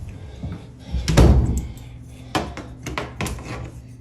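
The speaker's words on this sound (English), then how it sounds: "they locked the basement door behind them" A basement door being shut and locked, with a heavy thud of the door followed by several sharper knocks and clicks of the lock, close by in a quiet room.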